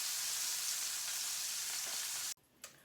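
Short ribs searing and browning in a hot pan, a loud, even sizzle that cuts off abruptly, followed by a brief faint rustle.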